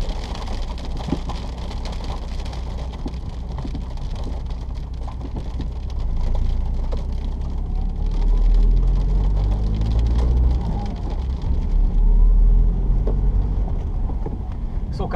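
Hail and heavy rain drumming on a moving car during a drive in the Netherlands, a dense steady patter over low road and wind rumble that swells louder toward the end.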